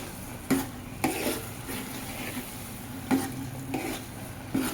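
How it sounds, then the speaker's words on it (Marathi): A spoon stirring thick puran dal mixture in a pan over a medium gas flame, with a soft steady sizzle and a few scraping taps against the pan, quiet and close. "व्यवस्थित घट्ट होईपर्यंत आपण ह्याला शिजायसाठी हलवत राहायचंय मीडियम गॅसवरती."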